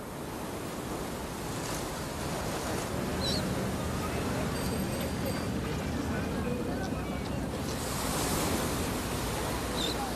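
Sea waves wash continuously along the Havana Malecón, the 7-kilometre seafront promenade, as a steady broadband surf roar mixed with wind noise, with faint distant sounds over it.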